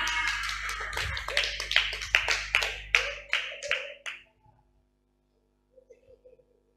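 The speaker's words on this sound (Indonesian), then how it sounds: "Tepuk tangan." A crowd claps in rhythm at an Indonesian religious gathering, about a dozen sharp, evenly spaced claps in a loud burst that stops abruptly, followed by near silence and a few faint taps.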